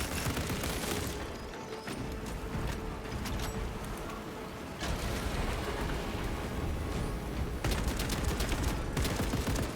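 A gun strike barrage rains down in Space Marine 2, with dense, continuous rolling gunfire and crashing impacts that keep pounding for nearly ten seconds, dipping briefly before surging loud again.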